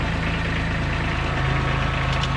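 A Kubota B7500 compact tractor engine idles nearby with a steady low throb and a faint knocking rhythm, running continuously and fairly loud with no talk over it.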